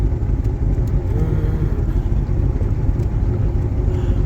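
A 1974 Lund jet boat's engine is throttled up, producing a loud, rumbling, steady drone with a rough low-end growl that stays close and continuous throughout, with no talk over it.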